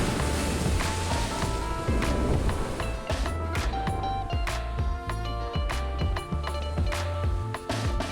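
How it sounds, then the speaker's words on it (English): Sea waves surge against a rocky coastline near ancient stone formations, a continuous wash of surf with rolling swells and wind buffeting, steady and moderately loud without speech. "The waves hitting the coastline is contrasting to the serene views from above"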